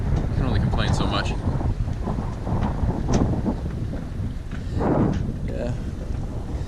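Strong wind buffets a boat being tossed about at sea, a loud continuous roar of gusts battering the microphone with surging bursts, while a person speaks underneath.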